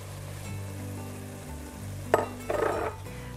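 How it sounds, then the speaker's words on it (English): Ground beef and finely diced onion browning together in a pot for a one-pot lasagna soup: a low steady cooking hum, then a few short scraping stirs close by near the end. "you're going to brown 1 pound of ground beef. To your ground beef, you're going to be adding one onion that has been finely diced."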